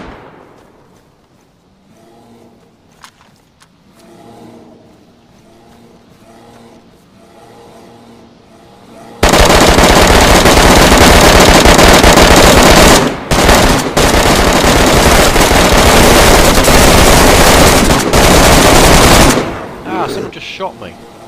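Loud, sustained automatic gunfire in the survival game DayZ erupts after a quiet stretch with faint talk, rattling continuously for about ten seconds with brief breaks before cutting off.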